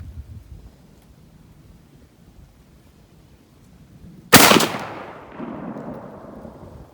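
A single sharp 12 gauge shotgun blast cracks out after several seconds of quiet outdoor ambience, then rolls away in a fading echo.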